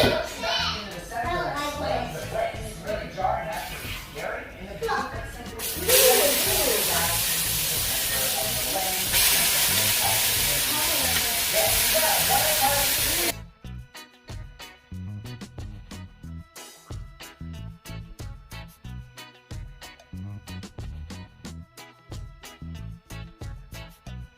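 Beef hits melted, browning sugar in a pot for a Jamaican stew, giving a loud, steady sizzle that lasts several seconds, with a voice talking before and after.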